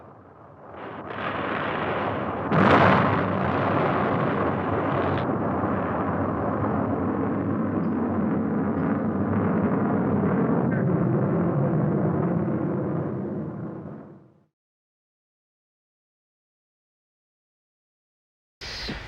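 Atlas rocket launch blast: a loud, sustained roar with a sharp burst near the start, rumbling steadily for about twelve seconds before cutting off into silence, then a brief loud noise at the very end.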